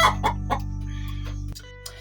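A hen being set on eggs for hatching clucks in several short, close calls over a steady low hum, ending in a quieter stretch with one faint cluck.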